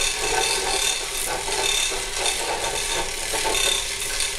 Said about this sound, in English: That's our chain fall making noise